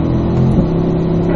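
A Corvette accelerating hard on a race track, a loud sustained engine drone close by, steady in pitch over a brief stretch with no talk.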